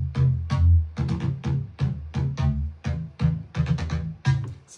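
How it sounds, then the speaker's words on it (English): A synth bass line for an electronic music drop, punchy low notes in a syncopated, rhythmic pattern of short plucked hits, loud and alone. "And then I make a cool bass line."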